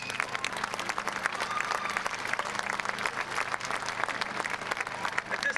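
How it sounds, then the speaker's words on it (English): A pep fest crowd applauds student athletes in a school gathering, a dense, steady wash of clapping that stays loud and continuous throughout with no clear voices above it. "So let's give you all these athletes a round of applause."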